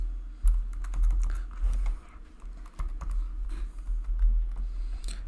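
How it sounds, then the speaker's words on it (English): Typing on a computer keyboard, entering product names into an online store's settings: a steady run of quick key clicks near the microphone over a low background hum, with no speech. "You can type the product names."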